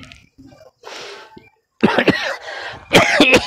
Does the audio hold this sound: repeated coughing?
yes